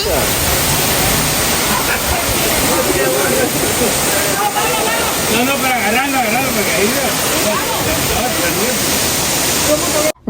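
Steady roaring rush of a waterfall fills the clip, loud and continuous, with a voice talking faintly underneath.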